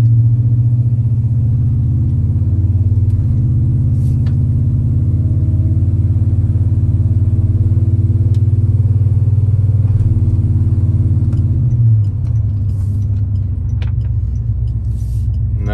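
A truck with a freshly rebuilt rear end drives along in a loud, steady low rumble from inside the cab, engine note holding even before dropping slightly near the end, with a few small clicks and rattles.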